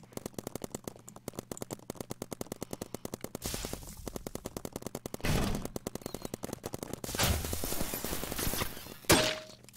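Paintball guns firing in a Roblox paintball game: a rapid, steady stream of sharp clicking shots, broken by louder bursts of impact noise and a brief electronic tone near the end.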